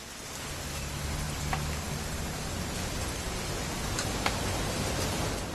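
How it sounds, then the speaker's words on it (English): Rain in the video game What Remains of Edith Finch comes as a steady, dense hiss with scattered faint drips, even and unbroken throughout, with no voices. "It's gonna rain the whole weekend"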